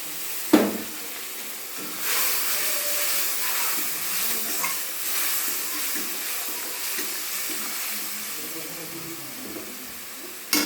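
Ground turmeric, cumin and chilli powder hit hot oil in a frying pan, giving a steady broadband sizzle that sets in sharply and holds loud and close throughout, with faint clinks of a spoon near the start.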